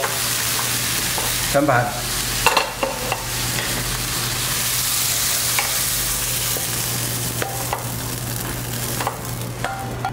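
Pepper shrimp stir-fried in a hot wok, loud continuous sizzling with repeated scraping and tossing of the spatula against metal and an electric hum underneath, with a voice speaking briefly over it.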